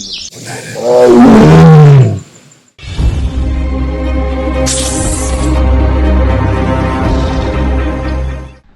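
A single loud, close tiger roar in Tadoba National Park, Maharashtra, rising and falling over about two seconds, followed by a sustained, dense droning sound.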